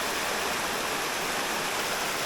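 A Jamaican river waterfall, with water pouring straight out of the rock, roars as a loud, steady, dense wash of falling water with no break and no voices.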